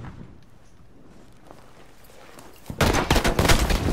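A 20 mm cannon in Battlefield V breaks out after a quiet, murky stretch, a loud burst of rapid heavy shots filling the last second and a half.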